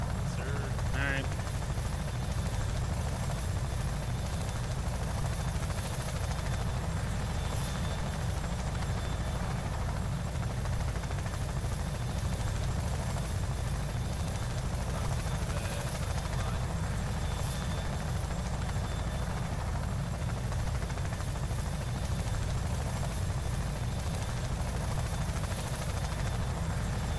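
In Arma 3, a helicopter hovers low to airlift troops. Its rotor and engine drone is steady, continuous and moderately loud throughout.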